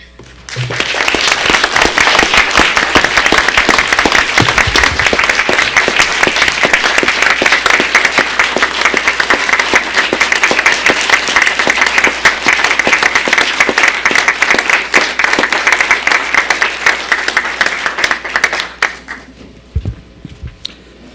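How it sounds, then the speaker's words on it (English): An audience at a Port Hueneme city council meeting applauds steadily and loudly for about nineteen seconds, a dense sustained clatter of clapping that fades out near the end. "And maybe a round of applause."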